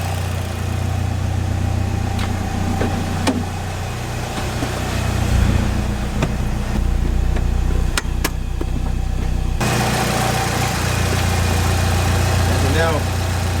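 A car fitted with a junkyard engine runs while put in gear, its drive wheel spinning faster. A steady, close engine drone with clicks and rattles shifts to a different, fuller tone partway through.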